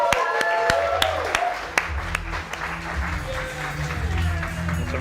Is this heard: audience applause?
yes